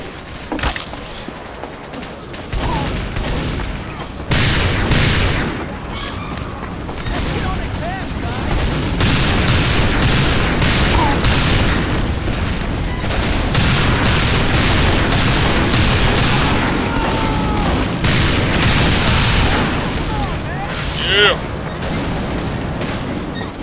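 Gunfire and explosions in the video game Team Fortress 2: repeated booms and bursts of shots, loud and dense through most of the stretch, with a voice talking at times over the fighting.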